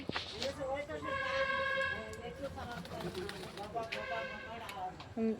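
Giribaz pigeons cooing in a home loft, with soft repeated coos and bird calls under steady talking, fairly close.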